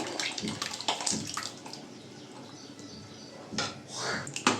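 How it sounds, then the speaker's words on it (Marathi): Jowar (sorghum) batter pours into boiling water in a pot while it is stirred constantly, giving close, splashing, sloshing liquid sounds with irregular swells and no speech. "तर आता ह्याला ना एकाने ओतायचं आणि एकाने हटायचं."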